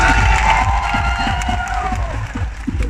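Clapping, cheering and excited shouts from a crowd at a TENxFirework fan meet-and-greet, loud and close, with a thin tonal whine running through it.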